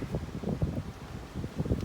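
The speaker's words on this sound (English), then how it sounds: "It's a bit windy, but I'm going to give it a go." Gusty wind blows steadily outdoors, buffeting the microphone with a low rumbling roar throughout and no voices.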